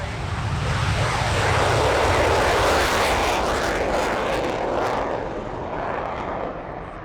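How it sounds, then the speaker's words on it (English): A Finnish Air Force F-18C Hornet performs a flying display at a military airshow, a loud, close, roaring jet rush that peaks early, then slowly fades as it passes overhead. "starting with the Finnish Air Force F-18C Hornet"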